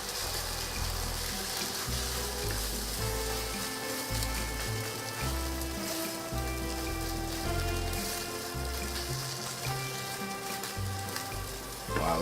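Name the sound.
bacon and eggs sizzling while frying in a pan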